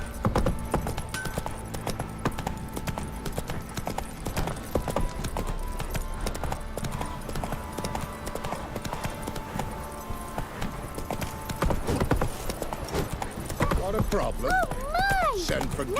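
Geralt's horse Roach gallops in The Witcher 3 with steady, rhythmic hoofbeats under in-game dialogue, and a whinny-like cry near the end.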